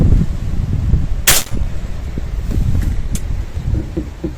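On a windy day, a single sharp gunshot cracks out about a third of the way through over steady wind rumble, followed by a fainter, shorter crack a bit later.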